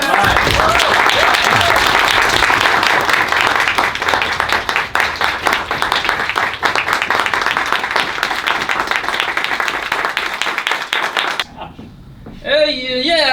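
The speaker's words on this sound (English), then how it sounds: "So shall we do the clap now?" A theater audience claps steadily and enthusiastically for several seconds, then the applause stops abruptly and a voice speaks briefly.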